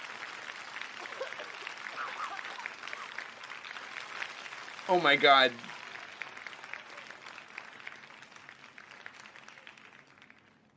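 Applause from an old recorded Garfield clip, a brief burst of clapping that stands out for about half a second amid continuous talk and background noise.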